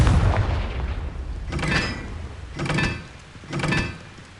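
Three booming blasts from the Confringo explosion spell in Hogwarts Legacy, each with a sharp whooshing burst that fades out, spaced about a second apart, with no talking.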